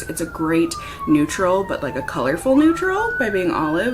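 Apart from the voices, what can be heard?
emergency vehicle sirens passing outside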